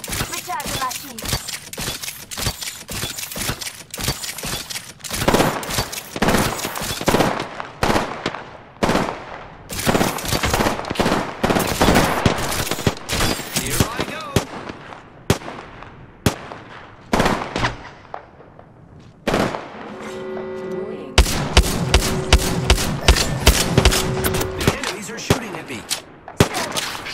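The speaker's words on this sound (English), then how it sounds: "The enemies are shooting at me." Dense, rapid gunfire from enemies in the shooter Apex Legends, with sharp overlapping shots and bursts crackling almost continuously and a few brief pauses, plus occasional game voice lines under the shooting.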